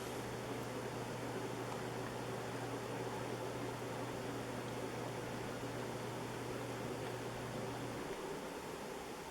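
A 2010 Westinghouse Splendor 120 cm brushed-nickel ceiling fan runs at a little over 200 RPM, producing a faint, steady airy whoosh with a low motor hum that stops near the end.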